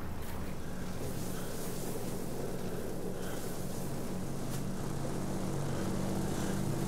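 WWII piston warplane engines in World of Warplanes drone steadily, a continuous propeller roar with a low throbbing tone that stays loud and unbroken, punctuated by faint higher whooshes.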